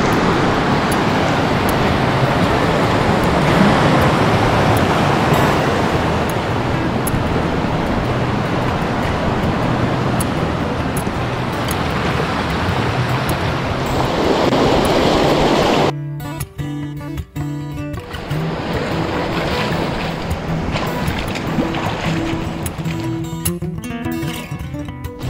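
Creek water rushing beneath a working footbridge on a mountain backpacking trail, a loud continuous broadband roar that holds steady, then thins and becomes more uneven partway through.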